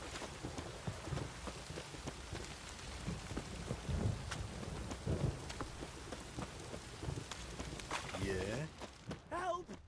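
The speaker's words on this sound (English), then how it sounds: "This downpour's a bastard" Steady heavy rain pours throughout in the video game The Witcher 3, with low rolling rumbles of thunder building and fading; muffled voices and some rustling movement sit underneath.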